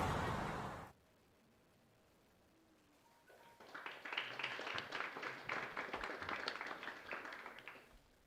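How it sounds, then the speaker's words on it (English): A talk audience applauds, a steady wash of many hands clapping that rises after a pause and holds for several seconds at moderate distance, fading slightly toward the end. "I'm glad we gave him a clap."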